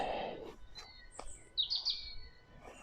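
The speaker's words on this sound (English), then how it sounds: "Can you hear the birds?" A few scattered high bird calls and chirps ring out in quiet bluebell woodland at Park Wood, Coventry, UK, with short tweets and a brief warbled phrase.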